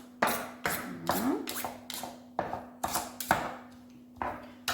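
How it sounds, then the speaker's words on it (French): Leftover tuna and aubergine stuffing is roughly chopped with a knife, giving about ten crisp, close knife strikes in an uneven rhythm, each with a short tail, and no talking. "la farce qui nous reste, on va la couper un petit peu grossièrement"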